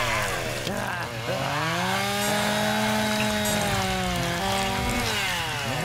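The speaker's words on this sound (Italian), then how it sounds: "Oh, la motosega! La motosega!" A chainsaw engine in the video game Press X to Not Die buzzes steadily, its pitch dipping and rising as it cuts, loud and close with no pauses.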